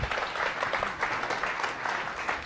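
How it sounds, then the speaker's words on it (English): An audience at a science cafe event on the local food movement gives one more round of applause, a dense, even burst of clapping that fills the room. "Let's give them one more round of applause."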